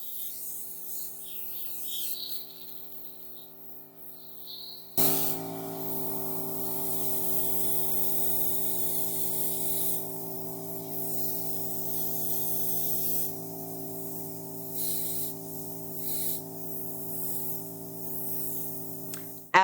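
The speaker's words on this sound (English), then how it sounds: "airbrush makeup is applied in light buildable layers" An airbrush sprays shimmer bronzer makeup in a steady, close hiss over a constant compressor hum, starting abruptly and continuing with slight pulses.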